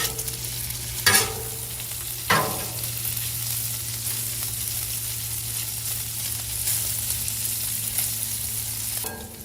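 Onions and mushrooms fry on a Blackstone griddle in a loud, steady sizzle, broken by a few sharp scraping or stirring knocks near the start and end.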